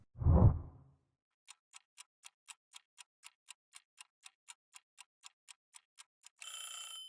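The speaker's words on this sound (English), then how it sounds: "And now let's set the timer, just like on the real test." A soft thump, then a steady series of about twenty evenly spaced ticks from a test countdown timer, ending in a brief rising chime or alarm tone.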